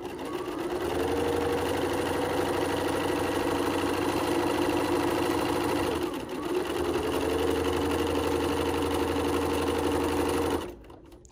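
A sewing machine runs steadily, stitching two fabric pieces together down the middle, a loud continuous mechanical whir with one brief dip before it resumes and then stops abruptly at the end.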